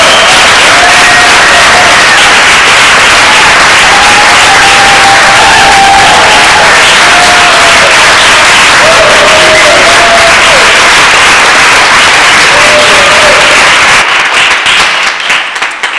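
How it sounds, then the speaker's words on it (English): Crowd at a Green Party presidential campaign event in Berkeley giving a warm round of applause for candidate Dr. Jill Stein, loud sustained clapping with scattered cheers and whistles that thins out near the end. "Please give a warm round of applause for Green Party presidential candidate, Dr. Jill Stein"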